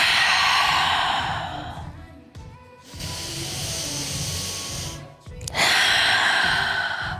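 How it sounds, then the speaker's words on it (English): A yoga practitioner breathes through a held bridge pose in a power flow class: long, hissing inhales and exhales, close and clear, with short silent gaps between breaths. "breathing for 2 whole breaths"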